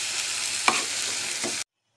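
Chopped tomatoes are stirred into a hot pan and sautéed, giving a steady close sizzle broken by two brief scraping stirs of the spoon before the sound cuts off abruptly.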